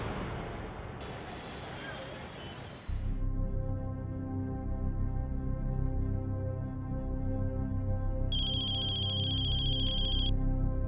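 A telephone rings in a tense crime drama scene, a steady electronic tone that enters near the end, after a voice fades out.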